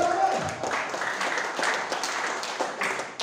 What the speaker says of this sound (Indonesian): Iya, berikan tepuk tangan.